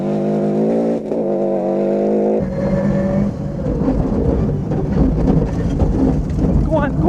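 McKinstry Subaru Legacy rally car at a gravel rallysprint: a loud engine drone, then a gear change into a rough, roaring run with gravel spray and rattling, under an intercom voice calling pace notes.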